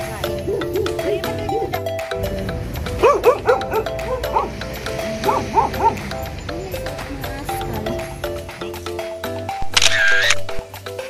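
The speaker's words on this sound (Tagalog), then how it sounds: "kahit saan kami pumunta, may aso talaga" Dogs bark in short, near, repeated bursts in Gudauri, Georgia, with yips and whimpers mixed in, while people talk over them and a camera shutter clicks.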